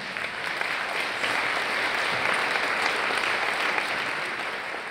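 Steady, dense audience applause at the Founderland event with RGA, a broad even wash of many hands clapping for about five seconds, close and loud with no voices over it.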